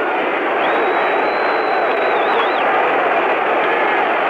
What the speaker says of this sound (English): the crowd picks it up yelling defense